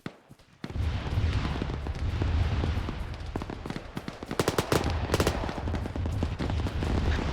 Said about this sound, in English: Small arms fire, west.